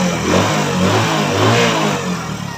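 A Hero Passion XPro 110 motorcycle engine, freshly rebuilt with a new timing chain kit, revs up and down nearby, a rough throaty roar rising and easing over a few seconds.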